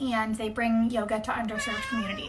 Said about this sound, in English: That lovely noise you hear in the background would be my cat